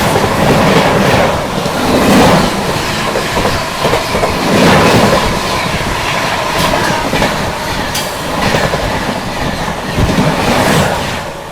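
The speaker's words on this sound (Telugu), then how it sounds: "మనకు ఆపోజిట్లో మన ప్రైవేట్ ట్రైన్ అయితే వస్తుంది" A passenger train rushes past on the opposite track beside an express train in motion, a loud, close, continuous roar of wheels and rattling carriages with surging clatter.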